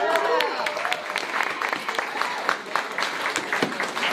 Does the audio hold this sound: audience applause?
yes